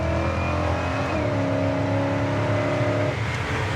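Engine of a 1957 Chevy truck accelerating from low speed, a steady close-up drone that climbs in pitch, briefly drops at a gear change, then holds and rises again with no talk.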